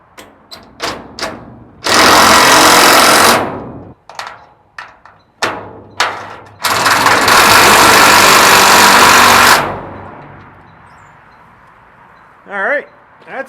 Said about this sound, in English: let's get the impact and hammer them in